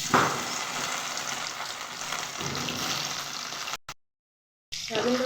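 Soybean oil sizzles and crackles loudly as it goes into a hot wok for an aloo dish, a steady close frying hiss that cuts out briefly before resuming.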